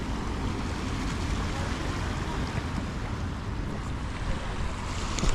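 Steady rushing water and surf under a coastal road bridge in Davao City fill the whole stretch, a broad continuous wash with wind buffeting the microphone.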